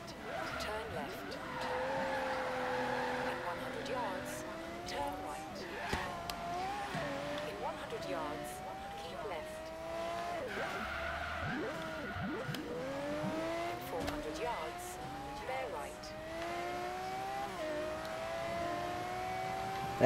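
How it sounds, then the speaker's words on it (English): A Lamborghini sports car engine in Forza Horizon 3 revs and shifts repeatedly, pitch climbing and dropping with gear changes, tires squealing at times, while someone talks over it. "The crazy sound of this car."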